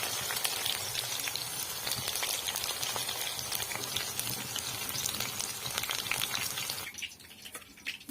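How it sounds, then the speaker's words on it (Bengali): Chicken pakoras deep-frying in hot oil give a steady, dense sizzle with constant crackling and popping. The sizzle drops noticeably quieter near the end. "পকোড়াগুলো ভাজা হয়ে গেছে"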